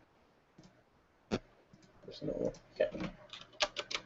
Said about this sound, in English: So I'll type. You guys can hear it kind of.